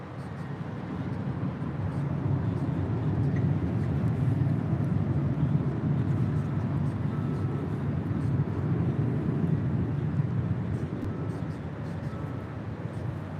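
Alaska Airlines Airbus A321neo on arrival at LAX, a steady broad low jet roar that holds at an even level for the whole stretch, moderately distant with no voices over it.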